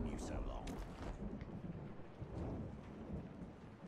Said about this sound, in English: Alright, again, it's raining.